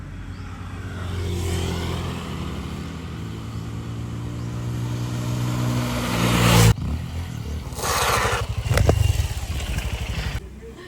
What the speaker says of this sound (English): now we're gonna go for a ride. I'm gonna take my dirt bike